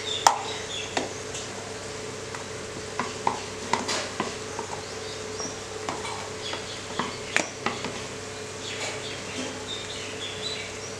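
Ground moong dal pesarattu batter spread across a hot oiled pan, faint sizzling under repeated light scrapes and taps of a ladle, with a few sharp clicks scattered throughout, close and quiet.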